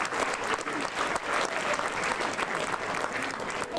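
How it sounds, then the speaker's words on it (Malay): An audience at the Malam Warna 1995 event applauds a third-place prize winner, a loud, continuous wash of clapping from a crowd, steady throughout with faint voices mixed in. "Berikan tepukan kepada Asma Laili."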